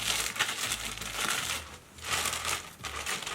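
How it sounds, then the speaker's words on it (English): Factory plastic wrapping is crinkled and pulled off a new Coach handbag from an outlet haul, making a close, continuous rustle that swells and eases in a couple of waves, with no one talking. "So let's unwrap it one at a time."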